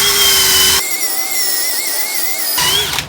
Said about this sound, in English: Then you take your drill with this soft bristle brush